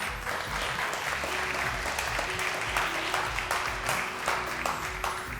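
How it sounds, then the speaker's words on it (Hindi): Studio audience applauding on a televised Ramadan debate show, steady dense clapping throughout at an even level with no talk over it. "अदिया आइए, तशरीफ लाइए, इनके लिए बहुत सारी तालियां।"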